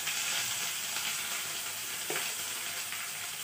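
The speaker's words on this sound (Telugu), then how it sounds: "శనగపప్పు, మినప్పప్పు, ఆవాలు ఇవి చక్కగా దోరగా వేగిన తర్వాత మనము అల్లం ముక్కలు వేసుకుందాము." Chana dal, urad dal, mustard seeds and ginger frying in oil, a steady dense sizzle throughout with one brief stir, fairly close and without speech.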